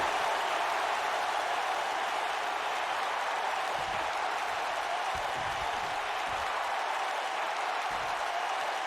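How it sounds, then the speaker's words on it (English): Wrestling crowd applauding after a near-fall, a dense sustained clapping roar from a large audience, steady and loud across the whole span with a few low thumps beneath. "The crowd behind Mamba"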